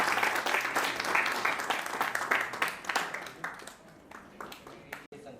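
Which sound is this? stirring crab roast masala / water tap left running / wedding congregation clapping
wedding congregation clapping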